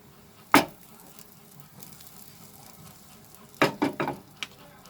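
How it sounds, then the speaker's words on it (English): Cumin seeds hit melted butter in a pan with a sharp burst of sizzle, then a faint crackle follows before a cluster of quick stirring scrapes and taps near the end, close by and without talk. "In this butter, I'm going to add the cumin seeds"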